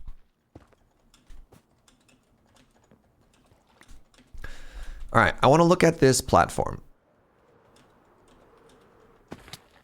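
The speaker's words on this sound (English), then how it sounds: "Sorry, no, I'm typing some messages" Typing on a computer keyboard, heard as faint, scattered ticking keystrokes through a quiet stretch, with a burst of talk in the middle.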